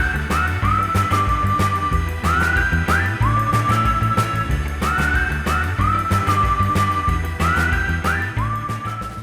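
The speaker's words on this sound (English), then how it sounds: "You're probably going to do that whistling type, weird surfy type song again." A whistled surfy war tune from the video game No Man's Sky repeats its melody over a steady rhythmic backing track, loud and clear throughout with no talking.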